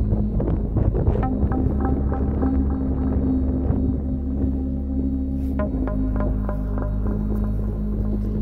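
Low, steady rumble of cold wind buffeting outdoors on the Lake Michigan shore, with a constant droning hum underneath and occasional gusts.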